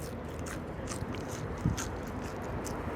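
A bite taken into crunchy, croissant-like puff pastry outdoors near a river in Lisbon, giving one short crisp crunch over steady background noise.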